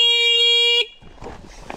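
A Sur-Ron Ultra Bee electric motorbike sounds its horn in one steady, loud, buzzy blast lasting most of a second, then cuts off to quieter outdoor rustling and shuffling.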